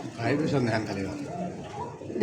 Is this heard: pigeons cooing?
yes